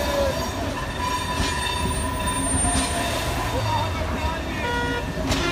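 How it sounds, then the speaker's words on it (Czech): A train rolls through a city centre in Brno, its steady rumble and rail noise continuous and close, with faint wheel squeal and brief high screeches; voices chatter loudly over it throughout. "najednou centrem města jede vlak"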